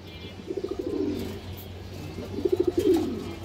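A female Kaldom pigeon cooing close by in two short bursts of rapid pulsing coos, separated by a pause, over a low background hum.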